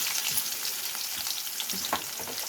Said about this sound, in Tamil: கடுகு பொரியுது பூண்டு.